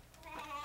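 A voice imitates a sheep's bleat, a short nasal "baa" rising and holding steady for under a second, fairly quiet and alone.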